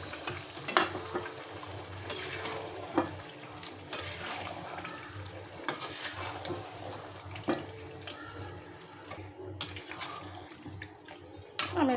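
Chicken legs go into spice paste in a pan for a papaya curry, with close sizzling and stirring broken by sharp utensil clatters and scrapes.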